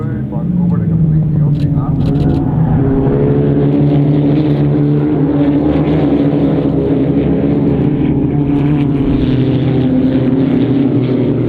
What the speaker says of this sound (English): Here we go, cars into sight at the bottom of the back straight.